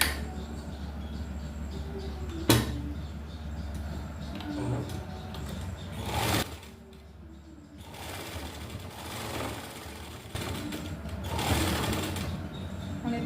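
A sewing machine stitches along a lace strip on a designer neckline in several bursts of rapid rhythmic chatter, close and steady, with short pauses and fabric handling between runs.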